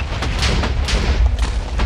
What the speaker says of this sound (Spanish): ¡El gran poder de las explosiones!